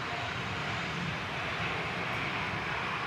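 A Boeing 787 Dreamliner pushes back at Manchester Airport, heard as a steady, broad engine roar that holds level throughout at moderate distance, with no voices.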